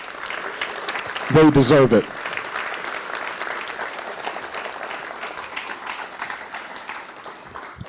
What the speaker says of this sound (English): let's give our parents a round of applause